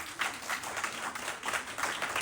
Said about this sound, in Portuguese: Quem pode aplaudir o Senhor pela sua palavra?